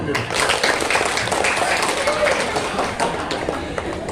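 A group of children at a Maulid Nabi gathering clap their hands together, a dense, steady patter lasting throughout with voices mixed in underneath.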